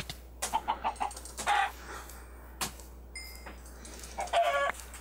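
Chickens clucking and squawking in a multiplayer video game, a run of short repeated clucks with a few louder bursts, fairly close and heard alone without talk.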